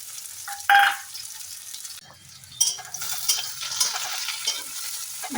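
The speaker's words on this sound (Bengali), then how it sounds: "সর্ষের তেলকে গরম হয়ে যাবে তখন দিয়ে দিচ্ছি শুকনো লঙ্কা" Dried red chillies and garlic in hot mustard oil, a sharp clatter followed by a busy crackling sizzle that rises and holds, close and clear, with no voices.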